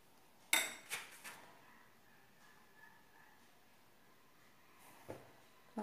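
A small spoon clinks a few times against a jam jar, with sharp metallic taps early and then sparse faint clicks over a quiet background.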